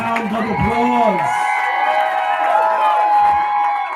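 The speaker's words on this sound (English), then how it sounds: "Please give them a big, gigantic round of applause." A crowd at a September 2022 graduation ceremony cheers the graduating class, loud close whoops and shouting voices rising and falling over a background of crowd noise.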